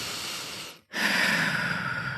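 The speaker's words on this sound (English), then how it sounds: "breathe it in" A person draws in one deep breath, a soft airy inhale that follows a brief silent pause and then sustains close and clear for about a second.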